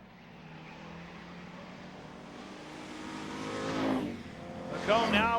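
Super street stock race cars lap Mesa Marin Raceway, engines roaring as they build and sweep past, one car growing loud and close before another rushes by, under a crowd-like background wash.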